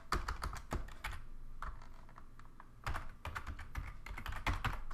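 Fast, steady typing on a computer keyboard while entering HTML code for a responsive website, dense close key clatter in quick runs with a short slower stretch in the middle.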